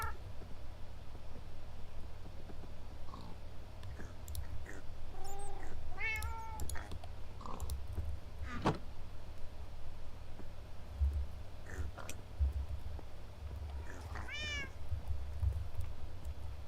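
A cat in the video game Minecraft meows several times at scattered moments, short rising-falling calls over a low steady game hum, some close and clear, others softer.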